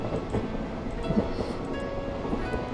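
Low, steady rumble inside a train carriage in the visual novel game White Album 2, a continuous muffled drone with faint rattles and no voices.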